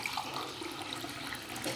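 Hot water pours steadily into a glass, a continuous close-up splashing trickle lasting under two seconds with no talking.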